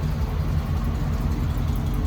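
A 1985 Chevrolet C10 Silverado pickup runs with a stock, non-cammed exhaust whose tailpipes exit both sides behind the rear wheels, giving a steady, close, continuous low rumble with no break.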